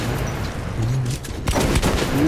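Shots from Metro 2033 pop in a quick cluster, louder in the second half, with a voice briefly audible beneath.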